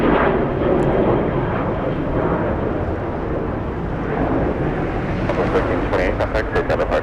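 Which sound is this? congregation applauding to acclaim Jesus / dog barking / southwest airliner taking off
southwest airliner taking off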